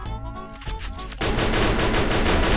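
Gunfire in the mobile game Free Fire, a dense, loud burst of rapid automatic shots that turns into a continuous roar of sustained fire after a brief rumbling lead-in.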